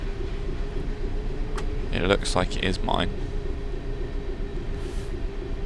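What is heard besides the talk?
Class 700 train running, from a video game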